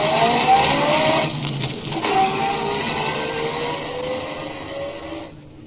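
A car in a radio drama sound effect drives hard with a loud, close engine roar and tires squealing and skidding, then slowly settles before cutting off abruptly near the end.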